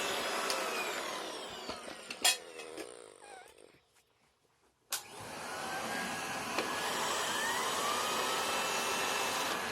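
An Electrolux Model L vacuum cleaner runs with a loud, steady whining roar, cutting out briefly for about a second before restarting at full power; a dog can be heard nearby.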